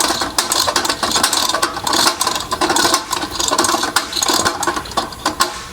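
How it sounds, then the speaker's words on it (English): A spring-driven hose reel's arbor declutching as the drum turns, giving a loud, continuous mechanical ratcheting rattle with rapid repeated clicks throughout, close up and alone. "it makes a little bit of noise, and that's the arbor declutching every time it goes around"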